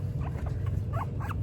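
A guinea pig gives soft, quick chuckling squeaks while exploring, several short chirps over a steady low rumble of background noise.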